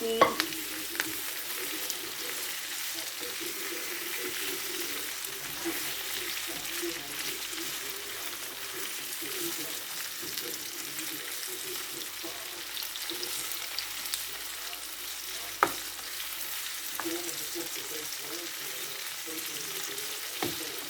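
Onion, tomato and carrots stir-frying for sweet and sour fish, a continuous even sizzle with a few sharp utensil clinks and stirring scrapes, no talking.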